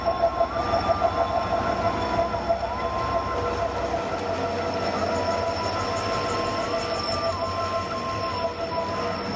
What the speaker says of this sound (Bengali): দেখো বন্ধুরা, আমাদের ট্রেন ঢুকছে চক্রধরপুর এক্সপ্রেস